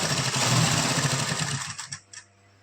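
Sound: sewing machine stitching piping along fabric edge

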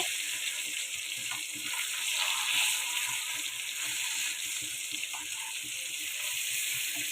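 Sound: fish frying in pan

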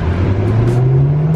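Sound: Porsche car revving in traffic

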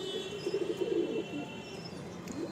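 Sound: female pigeon cooing

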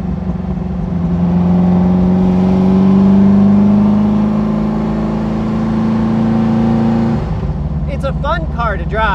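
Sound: Beck Porsche 550 Spyder replica engine driving

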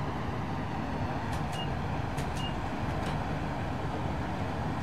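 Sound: Class 90 locomotive accelerating in video game Train Simulator 2021

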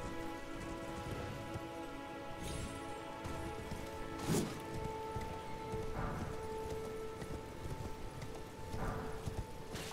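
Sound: horned horse hooves clip-clopping in Elden Ring video game

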